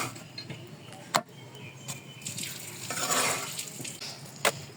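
Roti frying in a pan, a soft sizzle swelling in the middle, broken by a few sharp utensil clacks against the pan, close up with no talk.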